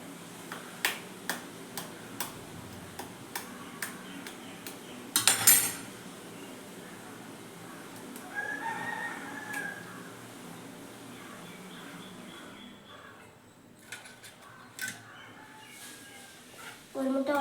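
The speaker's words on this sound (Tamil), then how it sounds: "இப்போ வந்து ஒரு முட்டையை உடச்சி போடுவோம்" Two eggs cracked one after another into a bowl during home cooking, with sharp close clicks, taps and a brief clatter of shell and utensil against the dish over a quiet kitchen background.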